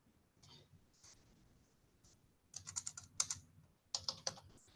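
Quiet, close keyboard typing with clusters of sharp key clicks that grow denser and louder toward the end, with faint background murmur early on.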